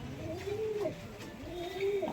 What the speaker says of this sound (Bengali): অনেক বয়স্ক পায়রা